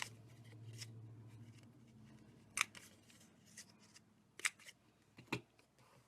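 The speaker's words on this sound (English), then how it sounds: "I'm going to round the 2 bottom corners of my tag, as well as all 4 corners of my designer paper." Corner rounder punch clipping the corners of a paper tag and designer paper, a few sharp isolated clicks and snaps spaced apart over quiet handling rustle, close and fairly faint.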